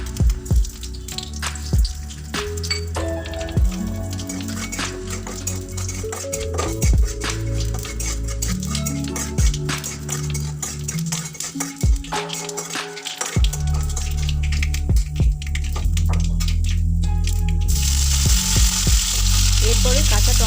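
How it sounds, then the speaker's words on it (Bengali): Whole cumin seeds and a dried red chili sizzle in hot oil for a small-fish and raw-tomato curry, a steady crackling fry broken by the clinks and scrapes of repeated stirring, close and fairly loud throughout. "ফোড়নে দিচ্ছি গোটা জিরে ও একটা শুকনো লঙ্কা, একটু নাড়াচাড়া করে নেব।"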